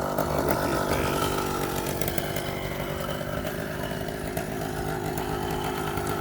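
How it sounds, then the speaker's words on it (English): A two-stroke motorcycle passes by outside, its buzzing, raspy engine holding loud and steady for several seconds with slight swells in pitch. "the two-stroke is coming by here. I'll wait till you pass."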